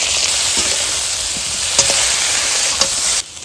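Eggplant fries in hot oil with salt and turmeric, a loud, dense, even sizzle running throughout with a few faint scrapes, cutting off abruptly near the end.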